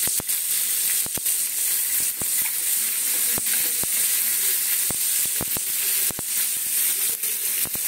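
Tomatoes fry in a pan with a pinch of salt, giving a steady close sizzling hiss sprinkled with sharp irregular pops and crackles throughout, with no talking.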